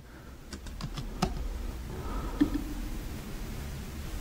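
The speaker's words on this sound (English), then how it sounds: "So just type the ticker." A few quick keystrokes tap on a computer keyboard as a stock ticker is entered, then the typing stops and a faint background hum remains.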